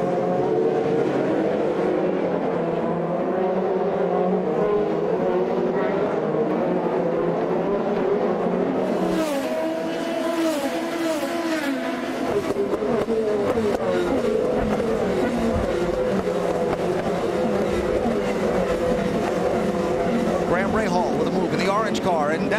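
IndyCar race cars at the start of the St. Petersburg race, a loud, continuous roar of packed engines sweeping past, with a commentator talking over the noise throughout.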